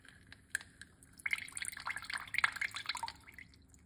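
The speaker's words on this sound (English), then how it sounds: "I'm gonna use some more lemon. Roughly about a teaspoon of the lemon." Lemon juice dripping into a teaspoon while making a drink: a cluster of small wet drips and trickles, close and fairly quiet, running for a few seconds with no talk.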